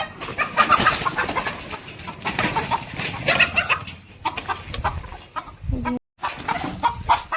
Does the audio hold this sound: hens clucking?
yes